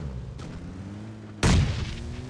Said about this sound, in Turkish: Adam bize bomba attı.